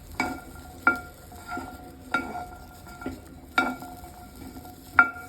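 Turkey berries (Solanum torvum) fry in oil in a pan for a chutney, with a soft sizzle under regular sharp metallic clinks and scrapes from stirring, about one every half to one second.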